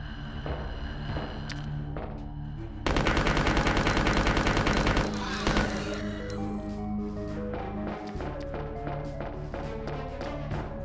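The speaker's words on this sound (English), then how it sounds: "Alright, you know what? Machine gun." Rapid machine-gun bursts from a weapon in Resident Evil 2's Extreme Battle Mode, a dense loud rattle of shots over game music and ambience, then fading into background game sounds.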